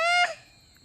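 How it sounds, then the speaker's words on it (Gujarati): A peacock near a temple at night lets out one loud, brassy honking call that cuts off sharply, followed by a faint short note and quiet. "મોર બોલી રહ્યો છો"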